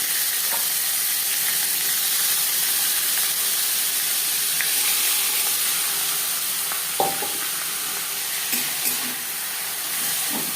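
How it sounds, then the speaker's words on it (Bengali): Banana stem fries in a pan with nigella seeds and green chilli, a steady close hiss of sizzling oil with a few faint stirring knocks and crackles, no voices. "কালো জিরের সাথে কাঁচা লঙ্কা হালকা করে ভেজে নেওয়ার পর দিয়ে দেবো থোড়"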